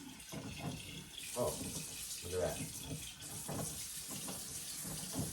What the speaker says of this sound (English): the water here, I wasn't able to turn it off